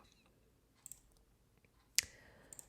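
Sharp, dry computer mouse clicks, a quick double click early, then one louder click, then a light pair near the end, close and crisp against a quiet room with no talking.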